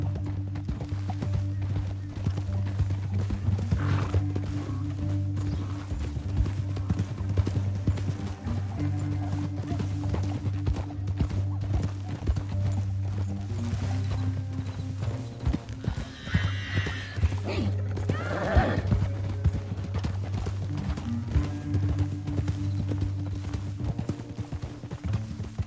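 Horses in the Red Dead Redemption 2 video game clop along steadily at a run, with sharp neighs and whinnies breaking in around the middle, while faint game speech drifts in underneath.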